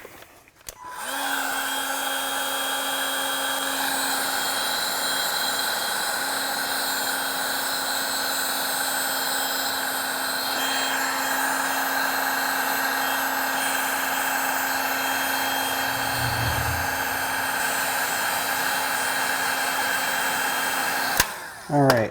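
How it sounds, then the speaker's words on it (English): A heat gun blows steadily while heating a corner of plastic car trim, giving a loud, continuous whirring hiss that runs unbroken for about twenty seconds, with a low thump partway through and a click as it switches off at the end. "take my heat gun, and I'm going to heat up this corner from here to here"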